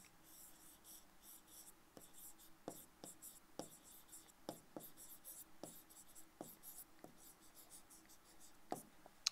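A pen writes by hand on paper with soft, scratchy strokes and occasional sharper taps, close but faint, during a Bengali history lesson.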